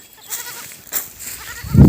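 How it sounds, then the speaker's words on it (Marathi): Goats grazing in a farm field let out a few short bleats, one near the start and a louder, nearer one at the end, over quiet outdoor background. "आणि शेळ्या टापपैकी शेतामध्ये चरत आहे बघू शकता."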